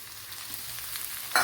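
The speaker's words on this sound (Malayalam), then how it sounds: "ഇനി ഇതിലേക്ക് ഒരു സവാള ഇതേപോലെ അരിഞ്ഞെടുത്തിട്ടുണ്ട്, അത് ചേർത്ത് കൊടുക്കുക." Chopped onion frying in a pan for a mackerel curry gives a soft, even sizzle close by, ending in a sudden louder hissing burst with no talking.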